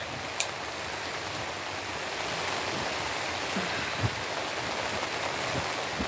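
Steady rain falls outside a greenhouse, a dense even hiss with a few louder drips and taps standing out, continuous and fairly close throughout.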